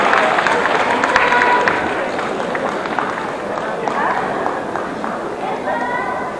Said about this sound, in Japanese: 皆様どうぞ大きな拍手でお迎えください。